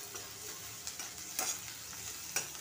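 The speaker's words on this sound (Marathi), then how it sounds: "आता हा कांदा चांगला भाजून घ्यायचा." Onion fries in a pan with a soft, continuous sizzle and a few light stirring scrapes, faint and close with no one talking.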